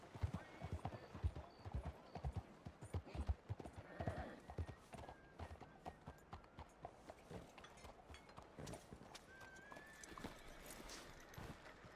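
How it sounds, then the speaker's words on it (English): Horse hooves clip-clop at a brisk, irregular trot in Red Dead Redemption 2, with a few whinnies and distant voices mixed faintly over the quiet hoofbeats. "Just look at that horse"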